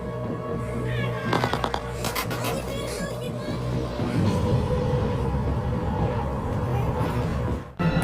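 Soldiers' gunfire in a film scene: dense, continuous rattling bursts with sharp cracks over a heavy rumble, loud and sustained, ending in a brief drop near the end.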